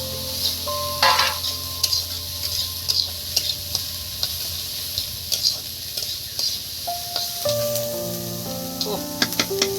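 Chopped garlic sizzles in a pan while a utensil stirs and scrapes, with bright clinks against the metal rising over the steady frying hiss.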